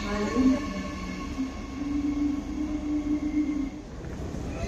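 Low rumble of a train at a station platform, steady mechanical hum and faint rail noise, continuous throughout at moderate distance, with some background chatter.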